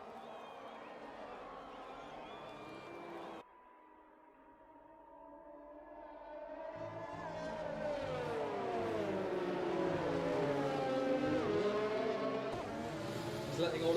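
Formula 1 race cars in a racing game roar past one after another, engine tones rising and sweeping down as they pass close by, loud and continuous with a brief dip in the middle.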